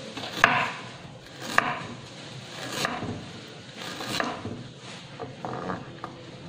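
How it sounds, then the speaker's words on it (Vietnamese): A knife cuts ginger into thin strips on a cutting board, producing a series of irregular woody taps and knocks, close and fairly quiet, spaced about a second apart. "Trong lúc đợi ướp vịt thì mình sẽ xắt cái phần gừng này thành sợi."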